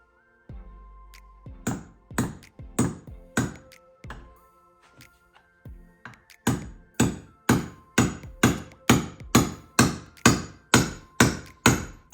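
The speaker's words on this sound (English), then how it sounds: "And then I'm gonna drive this steel wedge in the center of these two." A hammer drives a steel wedge into a hammer handle with sharp, ringing metallic strikes, a few spaced blows at first and then a fast, steady run of evenly timed hits, close and clear.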